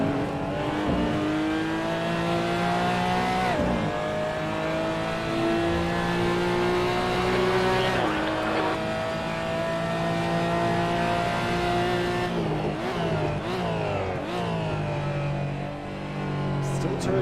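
A Porsche race car in a racing video game, during a qualifying session of an e-sports championship, revs hard and continuously. The engine pitch climbs and drops repeatedly through gear changes, loud and close, with brief tire squeal.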